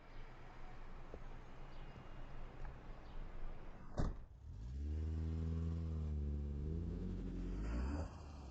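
A car door thuds shut midway, then a steady low engine hum rises and holds close by, as if the motor has just started inside the car. No one speaks.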